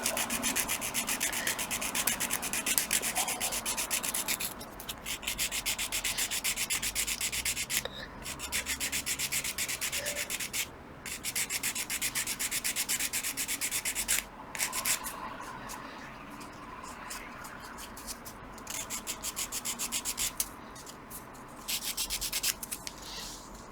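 Steady, continuous sanding strokes rubbing excess material off a small key part of a Vanguard Models Brig Adder model ship, close and fairly loud with only brief pauses, no talking.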